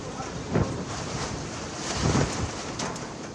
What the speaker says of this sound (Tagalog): Dala ang matinding ulan at hangin.